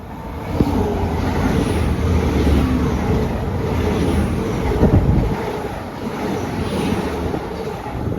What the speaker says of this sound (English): Passing through now is a Great Western Railway service from Swansea to London Paddington.